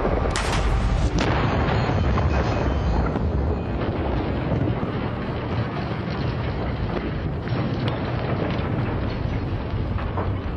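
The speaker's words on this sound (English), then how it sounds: "as this huge explosion goes off" A massive explosion in a blast test against a ute roars out with a sharp opening crack, then a long rumbling, wind-buffeted wash of noise sustains at high volume for several seconds.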